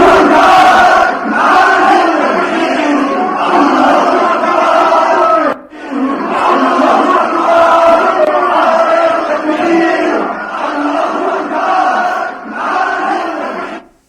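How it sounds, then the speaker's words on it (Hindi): A large crowd in Dhaka chants slogans in support of Hadi, a dense continuous roar of many voices in rhythmic waves, loud and sustained, with one short dip partway through. "हाथों में झंडा लेकर के लोग हादी के लिए नारेबाजी करते हुए नजर आ रहे हैं।"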